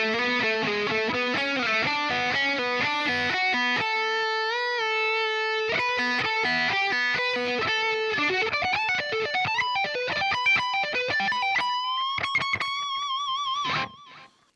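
A distorted electric guitar plays the second part of a bridge at a slower pace, clear single notes and quick runs climbing upward, ending in a sustained bent note with vibrato before fading out.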